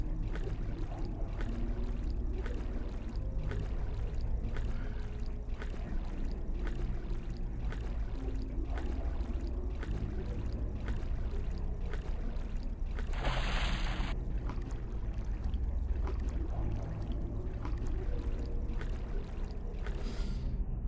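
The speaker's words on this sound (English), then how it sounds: "The current pulls me onwards." Water in a video game flows steadily through pipes with a constant rushing, gurgling wash. A brief brighter splash-like surge rises midway and then settles back into the even stream.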